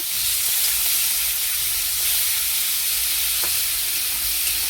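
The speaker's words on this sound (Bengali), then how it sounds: "চিংড়ি মাছটা একটু হালকা ভেজে নেব।" Prawns coated with turmeric and salt frying lightly in hot oil: a loud, dense, unbroken hiss of sizzling close by, with no talking.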